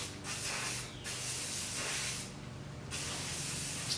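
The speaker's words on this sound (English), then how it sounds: "just spray the cleaner on the filter, soak it in real good, work it in" Cleaner sprays onto a motorcycle air filter in close, loud hissing bursts, three sustained sprays separated by short pauses.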